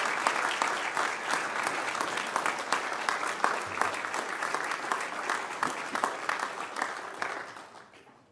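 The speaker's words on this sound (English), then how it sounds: "Let's give them an applause." A graduation ceremony audience at the University of Liverpool breaks into sustained, dense applause for family and friends, steady throughout and fading out toward the end.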